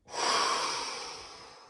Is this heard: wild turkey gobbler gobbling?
no